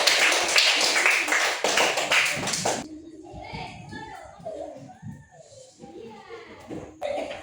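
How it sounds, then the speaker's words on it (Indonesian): Schoolchildren in a classroom clap together in a loud burst of hands for nearly three seconds, then it cuts off abruptly and children's voices and chatter take over, with a brief clatter near the end. "tepuk tangan"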